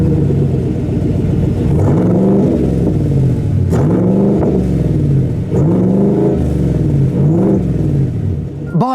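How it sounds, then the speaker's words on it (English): A 2020 GMC Sierra Harley-Davidson pickup revs through its dual exhaust. The engine blips up and settles back in about four loud, deep swells over a steady idle rumble, heard up close. "these exhausts sound Harley-ish"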